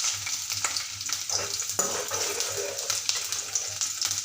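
Chopped onion frying in a pan until golden, a continuous close sizzle with occasional stirring clicks and a low rhythmic hum underneath, moderately loud and without talk.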